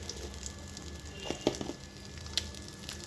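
Whole cumin seeds sizzle in hot oil for tempering, a close, steady hiss broken by scattered little crackles and pops, with no talking.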